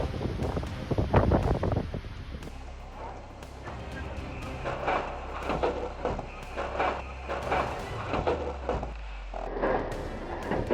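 Gusting wind buffets the microphone during snowfall at a ski resort gondola at Palisades Tahoe, a steady low roar that swells and eases throughout, with a brief heavy gust near the start.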